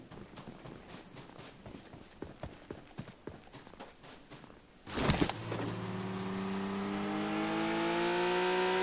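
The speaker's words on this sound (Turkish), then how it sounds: "Arkadan araba sesi mi geliyor?" Clicking, tapping sounds give way to a video game car engine in PUBG Mobile starting up and revving steadily, its pitch climbing as it accelerates.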